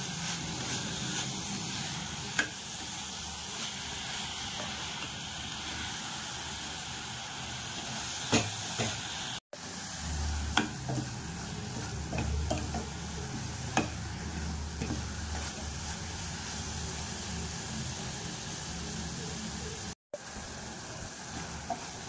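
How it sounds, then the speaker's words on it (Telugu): Coconut laddu mixture stirred in a pan over low heat, a quiet steady bubbling sizzle with soft scraping and occasional spoon taps throughout, briefly interrupted twice. "అడిగంటకంట ఇట్లా సిమ్లో పెట్టుకుని మనం కలుపుకుంటూ ఉండాలి."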